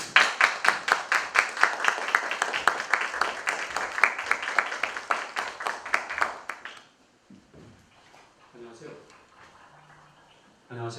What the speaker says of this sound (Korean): 큰 박수로 윤명철 교수님을 맞아주시기 바랍니다